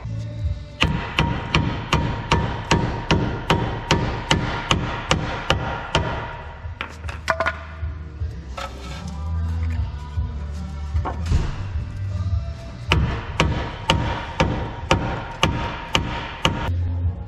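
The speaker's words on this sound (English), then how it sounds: "I'm just gonna put this 2x4 at the back and then I can hit it with a hammer" Hammer blows on a 2x4 held against a seized front brake rotor on a 5.9 Cummins truck, a long run of regular, loud, close metallic-wooden strikes, pausing briefly mid-clip before a second steady series.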